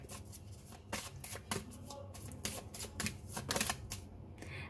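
Tarot cards are shuffled close by, with repeated quick riffling flutters and soft slaps in an uneven rhythm, quiet and without speech.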